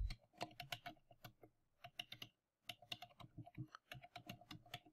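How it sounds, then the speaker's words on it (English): Fingers tap out an email address on a computer keyboard in quick irregular bursts of crisp clicks, close and fairly quiet, with a short pause midway. "So I'm going to type in my email address."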